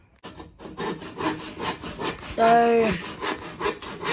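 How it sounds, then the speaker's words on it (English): A hand saw rasps back and forth through wood in quick rhythmic strokes, close by, with a brief word spoken at the start. "sawing the last piece of wood that we need"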